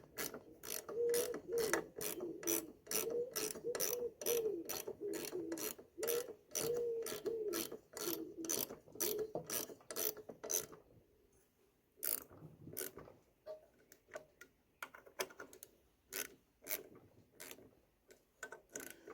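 A ratchet wrench clicks rapidly in long even runs while tightening bolts on a Westwood Lawn Bug mower engine pulley, pausing briefly before resuming in shorter, irregular bursts, close and crisp with no talking.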